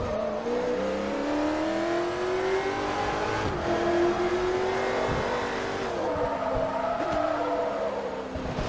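Race car engines in Forza Motorsport 3, with a Koenigsegg on a circuit full of corners: a steady loud engine drone that rises in pitch through each gear and drops sharply at shifts, with faint tire noise and no talking.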